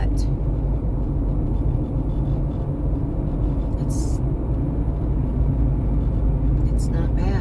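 Inside a moving car on a busy road, a continuous low engine and tyre rumble fills the cabin while surrounding traffic drones along, with a person talking over the noise.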